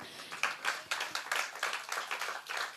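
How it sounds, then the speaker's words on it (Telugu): A church congregation claps along during a Christmas message, a steady run of bright, fairly close handclaps with a rhythmic pulse, no voices over it. "హల్లెలూయా, చప్పట్లు కొడదాం"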